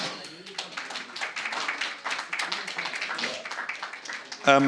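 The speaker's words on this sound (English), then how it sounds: "Let's welcome him with a round of applause." Welcoming applause for a speaker at a book talk on Failed State: moderate clapping from a seated audience, steady and fairly close, running for a few seconds before a short sharp knock at the end.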